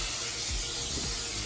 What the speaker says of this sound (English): Can't forget the good old canola spray oil.